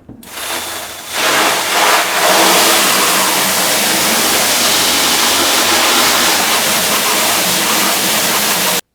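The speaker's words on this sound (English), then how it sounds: "Squirt that side off first. And then the inside." A strong water spray rinsing a screen printing screen during ink cleanup, a steady loud hissing rush that bursts on after a brief softer start and holds evenly until it cuts off, with no voices.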